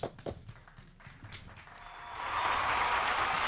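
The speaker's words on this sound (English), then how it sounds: "Get a round of applause for this." A podcast audience claps: a few scattered taps and thuds, then applause swelling into a steady, moderately loud round through the second half.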